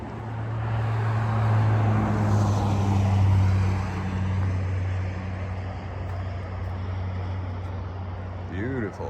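Highway traffic at sunrise beside a trail: a broad steady roar of passing vehicles with a loud engine swell in the first few seconds that fades, continuing as a constant wash.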